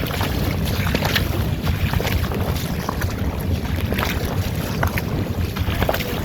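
Ocean flood water surges and churns with waves while strong wind roars and buffets the microphone in a dense, continuous wash of noise.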